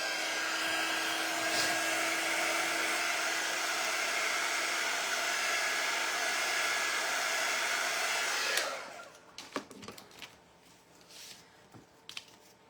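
A hair dryer blows steadily and loudly on a craft project for about eight seconds, then shuts off, leaving faint handling clicks and rustles.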